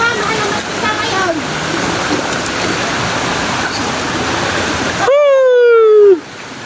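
Mountain waterfall where people are bathing, a loud steady roar of falling water filling the scene, with voices in the background and a sharp whistle-like call near the end.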